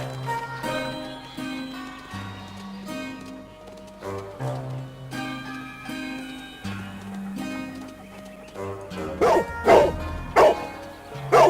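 A dog barks in the Sherlock Holmes: The Devil's Daughter video game over looping, stepped background music. Several sharp barks come near the end.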